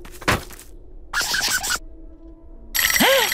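A cartoon telephone ringing in The Loud House, among short bursts of cartoon effects separated by silences, ending in a bright warbling ring near the end.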